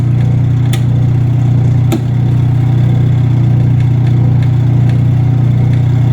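The motor of a discarded washing machine runs with a loud, steady low hum and a constant drone, broken by a couple of faint clicks.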